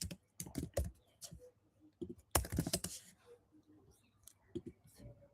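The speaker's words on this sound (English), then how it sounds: "just type Firebase console" Computer keyboard typing in short clattery bursts of key clicks, close and fairly quiet, with soft talking in between.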